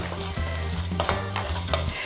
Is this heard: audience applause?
no